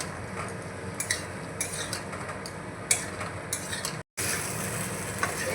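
Potato and capsicum with roasted ground cumin and coriander are stirred in a pan, giving close, irregular scraping and clinking of a spoon against metal over a low sizzle, with a brief pause near the end.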